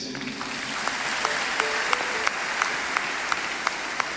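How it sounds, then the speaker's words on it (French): A church congregation claps together for Jesus in a steady rhythm of distinct, evenly spaced claps over a roomy background wash of broader applause, moderately loud throughout. "Acclame Jésus."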